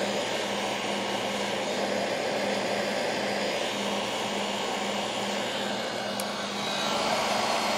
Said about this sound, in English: air gun here to just kind of dry the wood a little bit faster